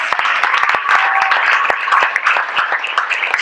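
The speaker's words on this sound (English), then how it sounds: "Let's give her a round of applause." Audience applause breaks out at a family gathering for a performer's introduction, a steady burst of many hands clapping close by for a few seconds.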